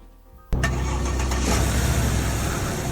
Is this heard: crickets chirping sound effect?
no